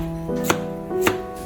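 A knife cutting a carrot into a flower shape for buttered chicken and vegetables: two crisp, separate strikes on a cutting board over a faint tonal background.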